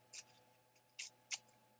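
Scissors snipping a piece of paper, three or four quick, crisp, close cuts separated by short pauses in a quiet room.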